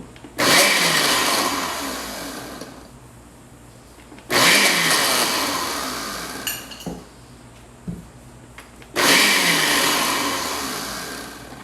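A blender purees pikliz, a spicy Haitian pickled cabbage relish, in three loud close bursts, each starting abruptly and slowly winding down, separated by short pauses with a few clunks from the jar.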